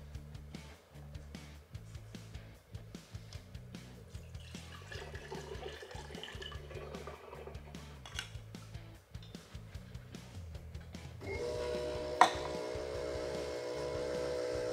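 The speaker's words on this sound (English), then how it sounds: "standalone fuel pump that we have on here" A standalone fuel pump whirs steadily, blending water into fuel, with sloshing, churning liquid throughout, growing louder and fuller near the end, with a brief sharp knock.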